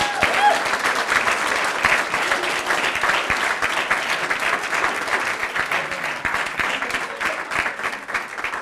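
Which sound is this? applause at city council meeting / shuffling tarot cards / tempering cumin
applause at city council meeting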